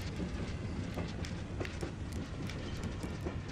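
A train rolls through a dark tunnel in the zombie survival game Zompiercer, a dense steady rumble with rhythmic clacking wheels and no voices.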